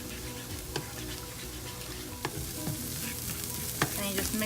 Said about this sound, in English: crack 1 egg here on the pan, and go ahead and scramble it